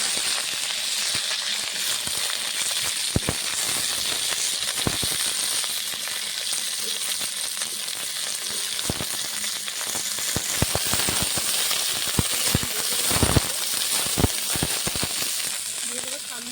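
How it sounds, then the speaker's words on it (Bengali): Cauliflower florets fry in hot mustard oil in a kadai for a Bengali mixed vegetable dish, a constant loud sizzle broken by sharp crackles and pops throughout, with no voices. "এখন ফুলকপিগুলো দিয়ে ভেজে নেব ভালো করে।"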